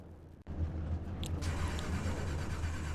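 SK Modified race cars in iRacing rumble as the field gets under way, a low steady engine drone that swells after a short quiet start, no talk.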